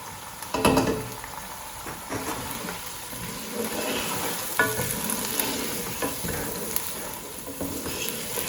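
Lamb seasoned with garam masala and salt cooks in a pot for pulao, giving off a steady, close sizzle and bubbling with occasional scrapes and knocks of stirring, no voices heard.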